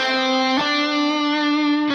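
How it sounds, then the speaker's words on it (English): An electric guitar sustaining a clean, bright single note, the flat seventh of the Mixolydian mode, with a light re-pick partway through and steady, close volume. "The flat 7 sounds like this."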